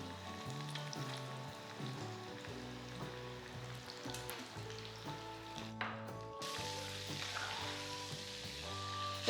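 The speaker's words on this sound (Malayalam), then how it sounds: "എണ്ണ ചൂടാകുമ്പോൾ ഇത് ഓരോന്നും ഇട്ട് ഫ്രൈ ചെയ്തെടുക്കാം." Prawns deep frying in hot oil, a steady close sizzle and bubbling that runs through the whole clip, with background music playing over it and a brief louder burst near the end.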